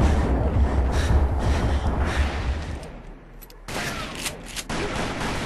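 Gunfire in the Western shooter Call of Juarez: Bound in Blood, a dense, loud barrage of shots over rumbling battle noise, briefly dropping off before further sharp shots return near the end.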